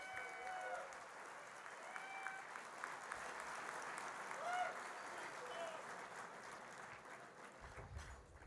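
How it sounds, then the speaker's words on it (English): Applause for a glee club at a formal St. Patrick's society dinner, a steady roomful of clapping held at an even level for several seconds before tapering off, with a voice heard near the end. "let's have a hearty round of applause for the Glee Club, who regaled us with song during our dinner"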